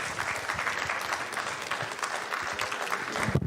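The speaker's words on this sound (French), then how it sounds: "Sous vos applaudissements, s'il vous plaît" An audience applauds a trophy presentation at an insurance conference panel, giving a dense, steady patter of many hands that carries throughout, with a brief louder knock near the end.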